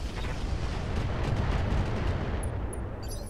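Long-range missiles from a Treadnought in the Roguetech BattleTech game pound a back turret, a dense, rumbling barrage of overlapping launches and impacts, loud and continuous, with a few faint high beeps near the end and no talk.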